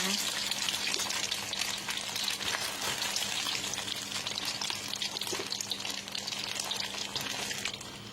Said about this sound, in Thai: ทอดทั้งเหลืองเลย